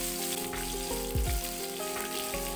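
Ground spice paste sizzles as it sautés in a pan for pepes tahu kemangi, a steady close frying hiss with brief louder bursts from stirring, and no talking.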